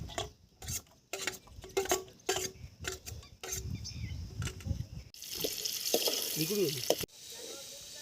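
Chopped onion dropped into hot oil for a crab dish cooked outdoors: faint scrapes and bumps at first, then a louder, dense hiss of frying in the last few seconds, with a voice briefly heard.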